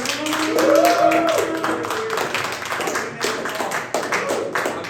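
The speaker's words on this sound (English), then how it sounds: "Nice hearty round of applause" An audience claps for the final act of an evening show, a modest room of hands under a voice that rises in pitch, with clapping continuing steadily throughout.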